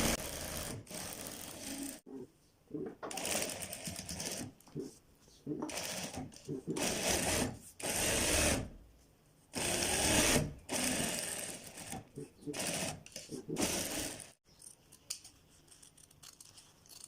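A sewing machine stitches the band of a child's kurta in repeated runs of steady whirring, each burst a second or two long and broken by short pauses, with a voice talking in between.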